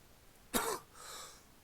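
A single harsh cough and throat clearing from someone ill with flu, one close, loud burst followed by a fainter breathy tail, with no talking.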